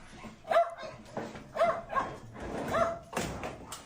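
A dog that is trying to bite gives short, sharp barks and yelps in spaced bursts, each followed by whimpering, heard at moderate volume with some background noise.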